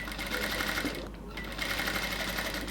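A sewing machine runs steadily while stitching the folded neckline of a baby frock, its close, continuous whir dipping briefly midway before resuming.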